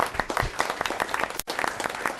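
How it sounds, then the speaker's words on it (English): Round of applause at a municipal council committee meeting, a dense wash of many hands clapping in a room, steady and fairly close, with a brief dropout midway. "If we I honor that with a round of applause,"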